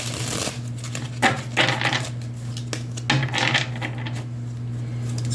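A brand new tarot card deck being shuffled gives several crisp riffling bursts of papery clatter, close and clear, separated by short pauses, over a faint steady hum.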